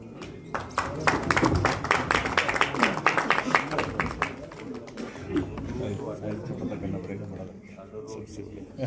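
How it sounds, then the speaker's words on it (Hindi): A crowd at a BJP political gathering breaks into dense, loud clapping that lasts a few seconds and then tapers off, with someone speaking over it. "जरा एक बार तालियां जोर से"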